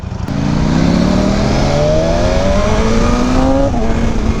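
A BMW S1000RR motorcycle revs hard during a ride, its loud, close engine pitch climbing smoothly through a long pull and then easing off near the end.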